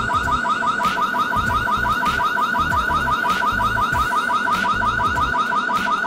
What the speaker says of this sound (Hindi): जब आप साइरन को ऑन करोगे कुछ ऐसी साउंड प्ले होना शुरू हो जाएगी।